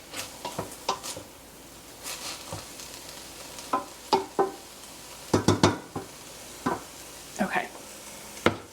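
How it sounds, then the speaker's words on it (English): A mixture is whisked and stirred in a pot on the stove, giving a series of short scraping and clinking strokes in irregular bursts, close and moderately loud, with a faint sizzle beneath. "we're just gonna whisk it every minute or so until it comes to a boil"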